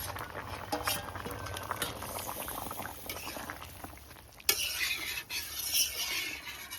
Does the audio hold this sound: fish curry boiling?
yes